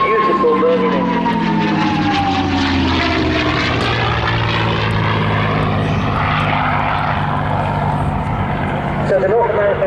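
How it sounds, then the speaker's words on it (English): The Merlin engine of a P-51D Mustang 'War Horse' flies past at the Southport Airshow 2024 as a loud, continuous propeller roar whose pitch slides down as it passes, with a commentator's voice underneath. "The beautiful whine of the beautiful Merlin engine."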